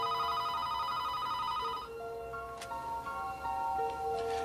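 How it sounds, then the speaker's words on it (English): A telephone rings in a quiet house late at night in a movie scene, repeated electronic trills with a short gap, alone without talk. "when the phone rings"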